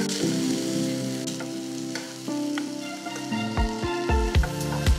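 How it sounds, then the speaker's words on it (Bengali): Mint leaves, 50 grams, roasting lightly in a pan, giving a steady close sizzle with stirring clatters and spatula scrapes throughout, no talking. "এখন পুদিনা পাতাগুলি আমি একটু রোস্ট করে নিচ্ছি"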